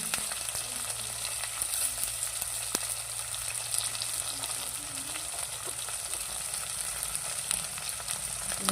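Curry leaves, onion and ginger-garlic paste fry in hot oil for a brinjal curry, a steady close sizzle and crackle with occasional stirring scrapes and no voices.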